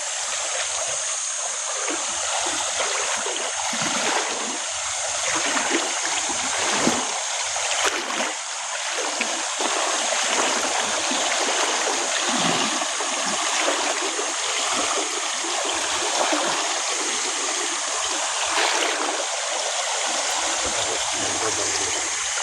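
Strong river current rushes over rocks, a steady loud broadband wash of flowing water with small splashes, continuous and close throughout.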